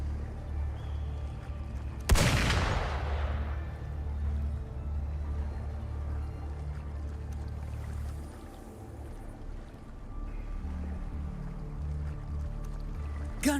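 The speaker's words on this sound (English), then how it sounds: "Gunfire! We've got intruders." A single sharp gunshot in the video game Wuthering Waves, a loud crack with a decaying echo, set against a steady low rumbling ambience with no talking.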